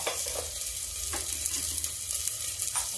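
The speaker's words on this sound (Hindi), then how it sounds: "ये प्याज पड़ गया, थोड़ी अदरक डाल दिए।" Onion and ginger sizzling with cumin seeds in a hot oil-filled kadai, a steady close crackle and hiss with faint stirring scrapes and no voices.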